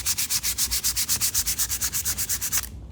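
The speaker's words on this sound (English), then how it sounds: "Some 220 grit and some tasteful distressing on my blocks here." Wooden blocks are sanded and distressed by hand with 220 grit sandpaper: quick, even back-and-forth scrubbing strokes, about five per second, close and clear with no talk, ending in a short pause.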